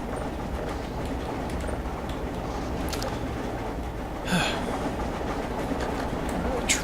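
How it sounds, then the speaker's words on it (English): Distant train rumble and clatter carry across a video game map, a steady low mechanical drone with faint intermittent clicks and a brief sharper noise midway. "Why are there train sounds?"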